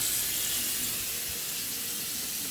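Steady running water pours while being rinsed through a child's hair during a co-wash, a continuous close hiss and splash with no talking.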